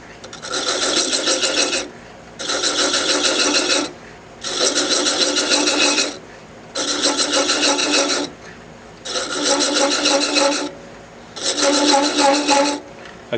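A thread chaser is worked against a spinning workpiece on a lathe, giving six evenly spaced rasping passes of about two seconds each, loud and close, separated by short quieter gaps of motor hum.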